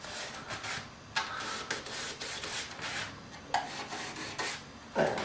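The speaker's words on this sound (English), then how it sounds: "You just want to rub them a little bit." Finger and thumb rubbing the small tabs of a plastic Thunderbird model kit part, giving a steady close, dry scratchy friction in short strokes, with a couple of faint clicks and no speech.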